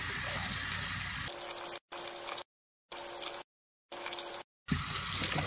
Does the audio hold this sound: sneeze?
no